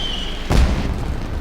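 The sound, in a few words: explosion, maybe fireworks, in video game Genshin Impact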